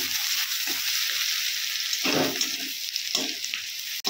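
Garlic paste frying in hot oil in a kadai with bay leaf, cinnamon, cloves and small cardamom, a steady close sizzle with bursts of louder crackling and stirring scrapes partway through, no talking.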